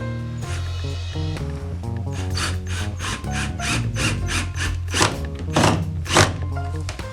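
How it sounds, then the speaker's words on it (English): Screws being run into wood with a pocket hole driver for storage bin shelves, a rising whine of the driver followed by bursts of rapid clicking and ratcheting, close and loud, without talk. "just running these screws in with the pocket hole driver"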